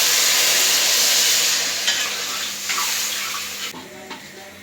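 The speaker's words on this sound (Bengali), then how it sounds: "তরকারিটা কষানো হয়ে গেছে এখন জল দিয়ে দিই" Water pours into a pan of sautéed vegetable curry, first as a loud rushing hiss over the hot food, then fading to a gentle bubbling sizzle with a few clanks of the pan.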